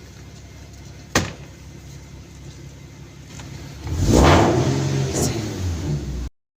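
A Nissan/Infiniti VQ37 engine idles steadily after a repaired MAF sensor fault, close and fairly loud, with a sharp click early on and a brief rise in rumble partway through. A voice speaks briefly.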